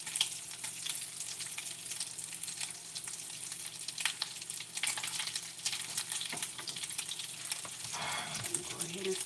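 Bacon sizzles steadily in a pan, a dense continuous crackle close to the listener, with some faint voice and a brief clatter near the end.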